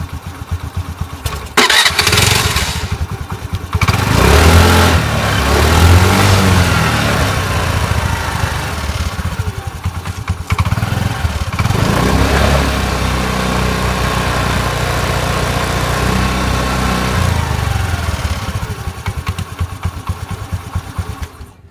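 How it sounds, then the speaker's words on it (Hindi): A scooter engine fitted with an engine radiator oil cooler revs loudly and close up, rising from a rough idle into sustained throttle blips, then holding a steady, buzzing drone, with no talking. "अगर मैं आपको एक्सीलेटर लेके दिखाऊं अपने स्कूटर्स का"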